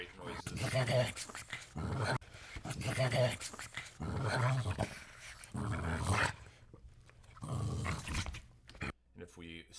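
Hank the dog's growl, recording slowed to 0.7 speed, comes as deep, drawn-out rumbling bursts repeated several times with brief gaps, close and heavy, tapering off near the end.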